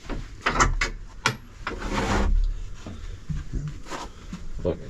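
A louvered sliding door on a 53-foot Gulfstar trawler, built about 50 years ago, rumbles open in a woody slide with clicks and knocks, close by, while people talk.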